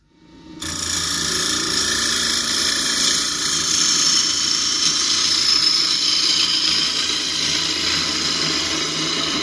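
A wood lathe turns a quarter-sawn London plane bowl, a loud steady whirring and hissing cut that starts abruptly after a brief silence and continues close and unbroken.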